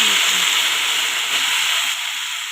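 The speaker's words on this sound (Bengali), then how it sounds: "গরম জলটা দিয়ে দিলাম এই তরকারির মধ্যে" Hot water poured into a pan of frying vegetable curry with spices, giving a loud, steady steamy hiss and sizzle that fades only slightly over a couple of seconds.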